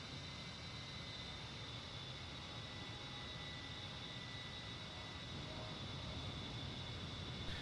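Engine of an A-10C jet aircraft in the DCS flight simulator game, climbing on a reverse course, heard as a constant, even jet drone with a faint high whine, steady and unbroken.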